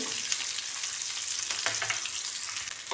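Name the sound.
onion sautéing in a pan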